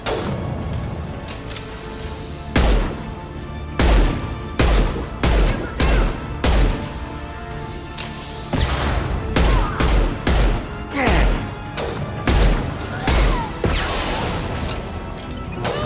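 Rifle gunfire in Mass Effect 2, loud close bursts of rapid shots in repeated volleys with short pauses between, over a steady game background and no talking.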